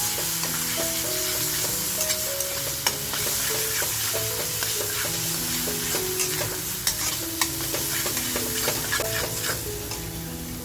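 Homemade ground masala frying in hot oil in a pan, stirred steadily with a utensil: a continuous loud sizzle with repeated scraping and clinking strokes throughout, no voices.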